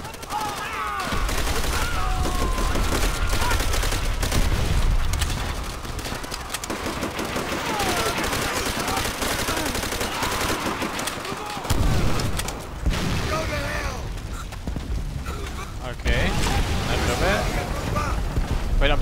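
Dense gunfire fills a Call of Duty: World at War battle, with rifle and machine-gun bursts and distant booms that barely let up, while shouted voices come through the chaos.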